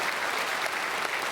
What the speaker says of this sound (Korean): 우리 크게 박수로 환영하겠습니다